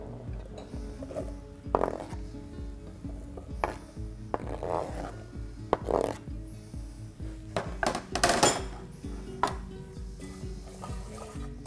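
Onion cooking and softening in oil in a saucepan, with a quiet steady sizzle under repeated scraping and clinking of a utensil stirring against the pan.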